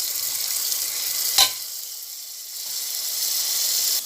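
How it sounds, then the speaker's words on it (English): Masala frying with curd in a pan for nalli bhindi gravy, a steady broadband sizzle with one sharp clatter partway through and a brief dip before the hiss swells back, no voices. "Fry it well for 2 minutes"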